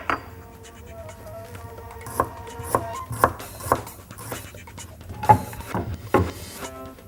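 Sharp knife chops slicing ginger on a wooden board, irregular taps with faint metallic ringing, close by and without talk.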